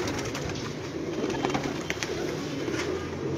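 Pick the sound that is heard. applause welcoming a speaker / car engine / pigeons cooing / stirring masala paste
pigeons cooing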